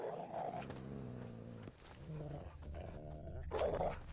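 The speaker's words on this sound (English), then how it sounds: "Just beware of the dogs." Dogs growl low and menacing in a fantasy role-playing game scene, a rumbling snarl rising and falling in several bursts, close and fairly loud, with voices talking between them.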